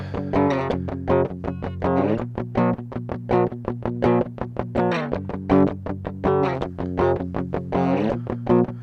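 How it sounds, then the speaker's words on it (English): Distorted, gritty music through a PreSonus tube channel strip, its harmonics saturated and buzzy from overdriven tubes, playing steadily and loud, rhythmic pulse throughout. "Got a little bit of distortion from the tubes."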